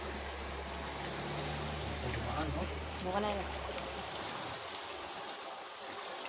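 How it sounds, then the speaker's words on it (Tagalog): Floodwater pours into a room as an overflowing river floods a house, a steady broadband rush and trickle of flowing water, with low rumble early on and a voice speaking briefly over it. "Grabing baha."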